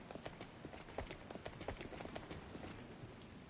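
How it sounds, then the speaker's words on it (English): Heavy rain in the game The Hundred Line: Last Defense Academy pours down as a dense, even patter with scattered sharper drop impacts, steady and soft in level with nothing else over it. "the sound of rain pouring down"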